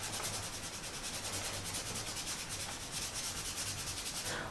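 Conte crayon rubbed flat across paper for shading, a soft continuous scratchy rasp with quick back-and-forth strokes, close and quiet, without speech.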